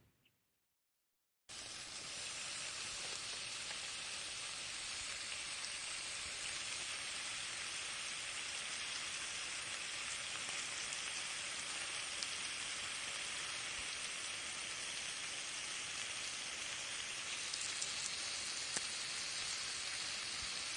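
Sweet potato, white eggplant and potato pieces frying in oil give a steady, even sizzle and hiss that starts abruptly after a short silence and then holds level throughout, with no one talking.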